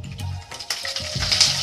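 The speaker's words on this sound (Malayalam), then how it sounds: "ഒരു പാനിൽ ചൂടായതിനു ശേഷം 2 ടേബിൾസ്പൂൺ വെളിച്ചെണ്ണ ചേർത്ത് കൊടുക്കാം. അതിലേക്ക് കുറച്ച് കറിവേപ്പില" Curry leaves hit two tablespoons of hot coconut oil in a pan, giving bursts of crackling sizzle that flare and settle in uneven waves, close up and moderately loud with no talking.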